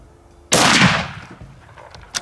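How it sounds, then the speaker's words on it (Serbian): One sharp rifle shot fired outdoors at night after the scope was removed and refitted a second time bursts out suddenly, loud and close, then rolls away in a long fading echo. "Pucanje posle drugog skidanja."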